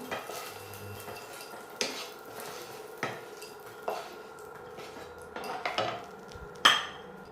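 Fried chicken sausages lifted from a pan onto a plate: a series of close clinks and knocks of utensils on cookware and crockery, with a faint background sizzle and one sharper metallic clatter near the end.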